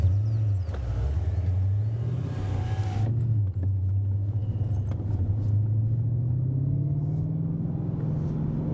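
A modified BMW M5 E39 with an ESS supercharger, rated at 550 horsepower, pulls in second gear from 50. Its engine gives a loud, steady rumble that climbs slowly in pitch as the car accelerates. No one speaks.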